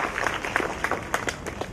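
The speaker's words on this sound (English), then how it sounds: "A huge round of applause for all of you." An audience at a mobile science exhibition event gives a brief round of applause, scattered claps of moderate loudness with a few sharper hits standing out.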